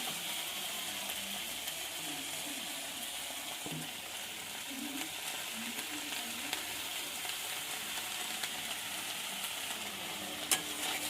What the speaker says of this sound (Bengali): এবার বেতো শাকটা দিয়ে দেবো।